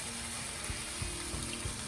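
Warm water being poured into a pot of curry pasta, a soft steady splashing trickle, faint and continuous over a couple of seconds with no talking.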